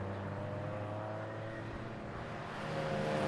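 A Porsche race car at the Porsche Club Championship final round passes on track, a steady broadband engine roar that holds throughout and swells louder near the end as it draws closer.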